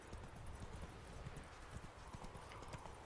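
Hooves of Roach, the horse in the video game The Witcher 3: Wild Hunt, clip-clop in a quick, steady rhythm at a trot, close and continuous over a low ambient bed.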